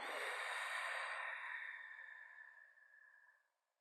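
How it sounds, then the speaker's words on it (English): Deep exhale in a yoga relaxation pose, a long breathy rush of air that starts loud and slowly fades to quiet over a few seconds, heard alone without talk. "Big breath in and let it all out."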